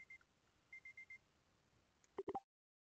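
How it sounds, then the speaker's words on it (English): A faint alarm gives a series of short, evenly spaced electronic beeps in a quiet room. A few louder clicks follow before silence. "that was an alarm set"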